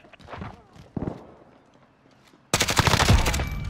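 Automatic gunfire in the Call of Duty Modern Warfare video game, a sudden loud burst of rapid rattling shots that carries on steadily, preceded by scattered footsteps and movement, with a voice talking under the action.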